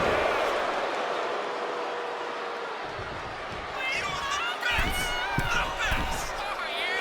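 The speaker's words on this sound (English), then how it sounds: "And Mark is really getting the crowd going" A wrestling video game crowd roars and cheers in a steady, dense wash of noise, with higher shouts and whistles rising in the later part over a commentator's voice.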